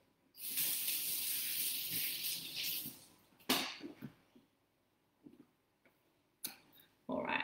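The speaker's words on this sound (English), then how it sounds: "I'm gonna rinse my hands again." Kitchen tap running as hands are rinsed, a steady hiss of water for about three seconds, followed by quiet clicks, bumps and brief splashes.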